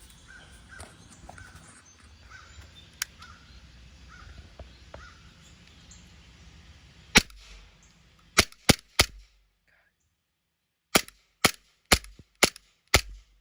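Several sharp, loud shots from a Glock 45 Gen 5 6mm airsoft blowback pistol ring out one at a time, a single crack and then quick bursts of two or three, with near silence between them.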